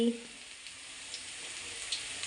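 Broccoli curry, lightly spiced with cumin and bay leaf, sizzles softly in a pan as a faint, steady hiss with a brief voice at the very start.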